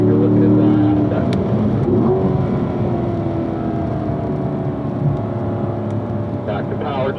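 A race car on a track accelerates under steady engine drone, a sustained mid-pitched roar that holds level throughout, with a voice coaching over it.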